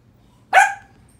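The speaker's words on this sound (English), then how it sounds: "does dogs keep barking?" A single sharp dog bark, close and loud, standing alone over a quiet low hum.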